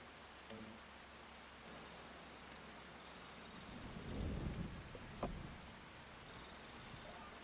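Steady rain hisses across a Farming Simulator 25 field while a low rumble of thunder rolls in midway and fades, followed by a soft crack, all faint and distant.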